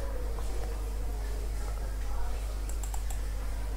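Data entry typed on a computer keyboard: quick bursts of close key clicks over a constant low electrical hum, with a short cluster of sharper clicks near the end.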